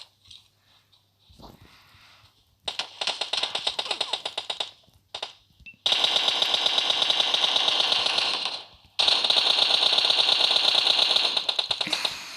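Rapid automatic gunfire in PUBG Mobile rattles in long sustained bursts separated by brief pauses, loud and close.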